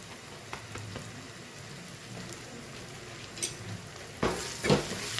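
Salt and sambhar masala being stirred into frying food in a pan: a soft, steady sizzle with scraping stirs near the end, recorded close up with no voices.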